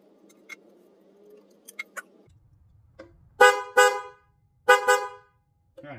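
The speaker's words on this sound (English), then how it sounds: "that's definitely like a truck horn" A dual-tone track horn fitted to a Ducati Scrambler motorcycle blares in four loud, close blasts, in two pairs of two, after a few faint clicks, sounding brassy like a truck horn.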